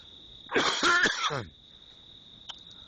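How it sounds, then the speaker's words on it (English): A single harsh cough from a person with COPD bursts out close by, lasting about a second, against a quiet background with a steady high chirping hum. "Sorry, I cough because I've got COPD."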